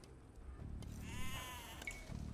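A sheep bleating in the Age of Empires II video game, one quavering bleat rising over a low hum of game ambience, faint and short.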